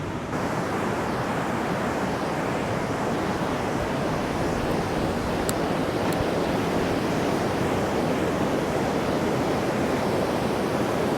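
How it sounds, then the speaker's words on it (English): Rough ocean surf crashing onto a sunny beach, a dense continuous roar of breaking waves with wind mixed in, loud and steady throughout with no voices. "The surf is so rough."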